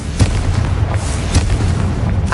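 A Confringo fire spell goes off in the wizarding game Hogwarts Legacy with a deep, rumbling blast. The boom rolls on steadily through the short moment, with a few crackling bursts layered over the low roar.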